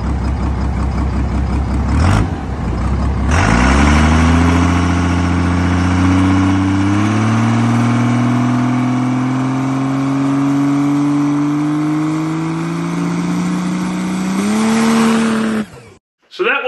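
Car launching in second gear with the tire spinning, engine note climbing steadily in pitch as revs build over several seconds, then dipping briefly as it shifts into third and rising again, loud and close.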